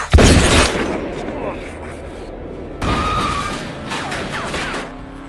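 Gunshots in a film scene: two loud, booming blasts, the first at the very start and a second midway, each followed by a rumbling, echoing tail under a dense background.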